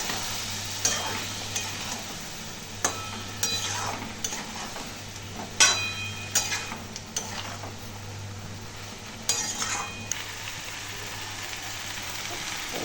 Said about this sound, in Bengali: সামান্য একটু জল দিয়ে কষে নিই